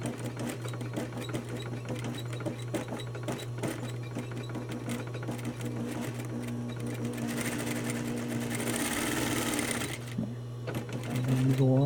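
A sewing machine stitches steadily around a curved shirt cuff, a close, fast rhythmic mechanical whirring with a constant hum, running continuously and speeding up near the end while someone talks over it.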